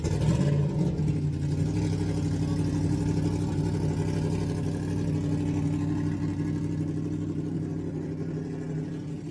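Idling engine of an off-road race truck at the Baja 400 finish line, a steady loud low rumble with a slight rev at the start, holding even throughout.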